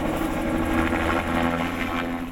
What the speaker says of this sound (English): The sounds of hard work and chopper blades are deafening.